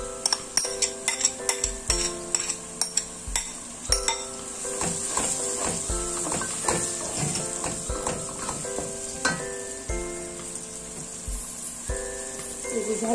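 Spices stirred into softened fried onions in a pan, with a spoon clinking and scraping against the metal in a quick, uneven rhythm over a steady close sizzle.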